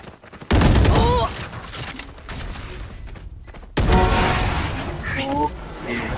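Valorant gunfire during an esports match, two loud bursts of shots with crashing impacts, separated by a quieter stretch, with excited commentary voices talking throughout.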